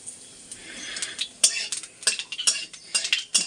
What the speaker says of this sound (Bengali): এখন দিচ্ছি কালো জিরে।